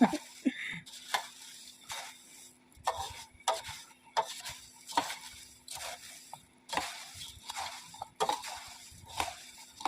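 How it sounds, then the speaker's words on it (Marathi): A spoon stirs masala bhadang ingredients in a pan in repeated scraping strokes with light sizzling, close and moderately quiet, with no voices. "एक एक घालायचं, हलवायचं."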